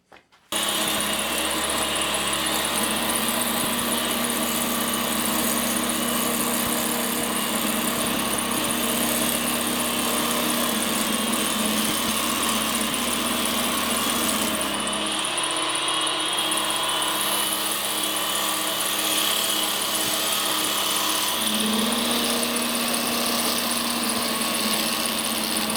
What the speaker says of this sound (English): So I'm going to now get my parting tool and make a part so that I can cut the lid off.